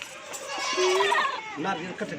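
A goat bleats in a short wavering call, close by, with someone talking at the same time.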